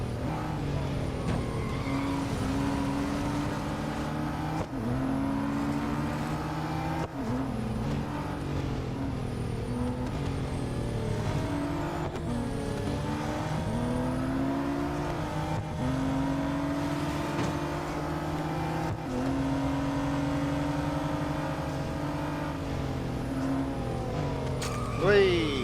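Race cars from the Real Racing 3 video game roaring around a track, a constant layered engine drone with repeated rising and falling revs and gear shifts, loud and sustained throughout, with a voice talking over it.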